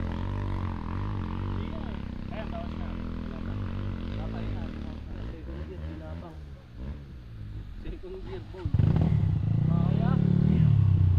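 An MMC 250 motorcycle engine rumbles and revs, rising to a louder, rougher roar near the end.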